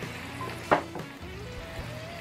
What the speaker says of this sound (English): My bacon is cooking on the griddle right now.